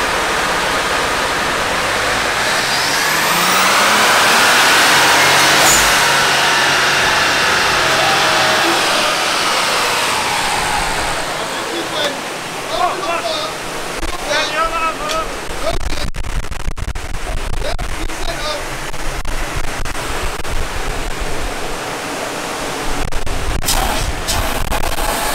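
A budget turbocharged car engine on a dyno climbs through a long, loud rising rev with roaring intake and exhaust, then drops to a rougher, sputtering idle with sharp pops, under brief background voices.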